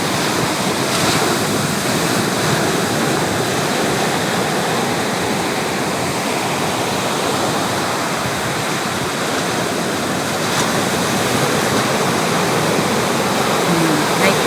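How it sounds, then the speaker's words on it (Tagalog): Sea waves at high tide wash steadily against the shore in a continuous, loud, broadband roar, with no clear pauses between surges and some wind noise mixed in. "High tide na yun. Kaya lumaki yung dagat."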